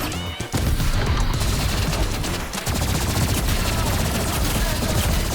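Loud, dense gunfire from the video game Rivals, with rapid overlapping shots and bursts that run almost without pause.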